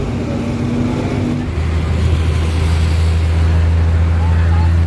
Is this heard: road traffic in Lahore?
yes